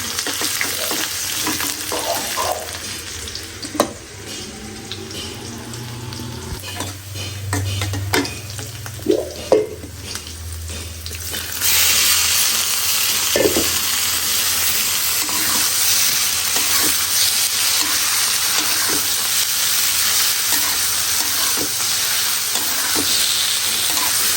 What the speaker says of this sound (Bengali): লাল শাক বাগার দিয়ে এখানে লাল শাকটা সিদ্ধ করে দিচ্ছি